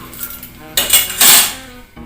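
Spoon clinking against dishes while two spoonfuls of salt are added, a short burst of bright metallic chinks and scrapes near the mic with a quiet pause before and after.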